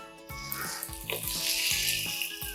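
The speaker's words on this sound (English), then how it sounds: "Then I'm gonna take my zucchinis" Zucchini slices fry in a hot pan with a steady, bright sizzle, broken by a few close, low clatters of the pan or utensil.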